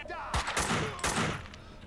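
Bursts of gunfire from the shooter game Max Payne 2 crack in a brief close flurry of several shots, heavy and echoing, with a voice partly heard under them.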